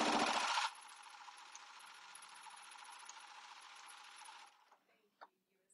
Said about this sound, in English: And I'm sewing all over my threads right now, but this is just a fun little demo.